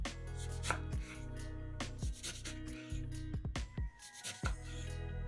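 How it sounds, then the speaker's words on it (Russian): A knife slicing half a lemon into thin pieces on a board, a series of crisp, close chops at an uneven rhythm, clear and alone with no talk. "Лимон нарезаем пластинками."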